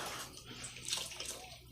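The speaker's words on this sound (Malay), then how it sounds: "Mak nak tambah air." Water poured into a pot of mung bean porridge with durian, a soft brief pouring and splashing close by, ending in a sharper splash.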